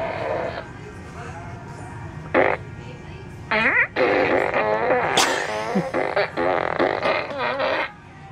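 A Despicable Me toy fart blaster lets out several wobbly, squeaky fart noises in short bursts, the longest toward the end, with faint talking and background hum between them.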